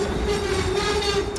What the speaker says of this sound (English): Trains are going around.